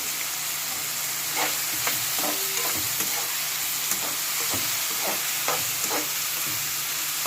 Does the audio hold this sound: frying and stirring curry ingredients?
yes